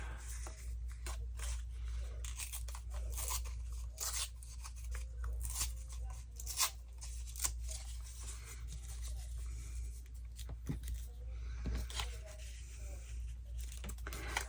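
Paper postage stamp being torn and rubbed by hand for a vintage gold collage, a steady run of soft crinkling, scraping and ripping textures close up, with brief louder tears and no speech over it.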